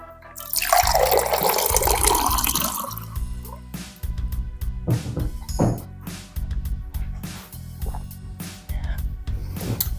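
Water filling from a tap: a loud gush of running water that cuts off after a few seconds, followed by dripping, sloshing and clunks of handling, with no talking.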